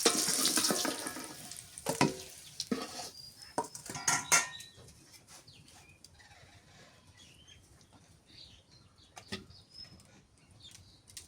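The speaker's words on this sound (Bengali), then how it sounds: "ধুলে ভালো করে ধুয়ে নিই" Water splashing and running while something is rinsed by hand in a kitchen, busy bursts of splashing at first, then quieter drips and occasional splashes.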